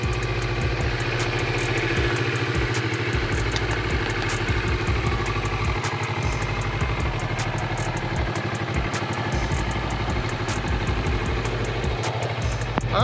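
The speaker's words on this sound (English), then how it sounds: "someone got a new motorcycle" A new motorcycle engine idles close by with a steady, loping chug and mechanical clatter, holding an even rhythm throughout with no speech.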